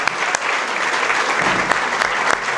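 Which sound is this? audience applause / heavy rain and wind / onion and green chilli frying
audience applause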